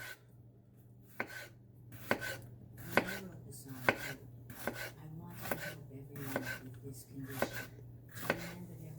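A kitchen knife slices jalapeño peppers on a cutting board, with about nine evenly spaced, crisp chopping knocks, close and moderately quiet over a low hum.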